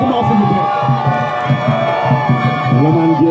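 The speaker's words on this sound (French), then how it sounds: "Je vous demande d'applaudir très fortement, s'il vous plaît." A large crowd cheers and shouts at an outdoor village excellence-day ceremony, voices rising in a sustained, loud roar with some whoops standing out near the end.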